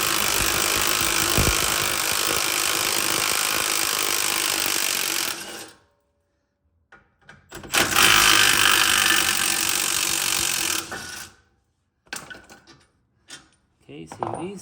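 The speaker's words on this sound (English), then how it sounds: "if you don't have a gun, you could just use your ratchet." A ratchet loosens the brake caliper bolts on a Chevy Camaro during a brake pad and rotor job. Two long, close, dense rattling bursts are separated by a pause, followed by a few short, scattered clicks and knocks.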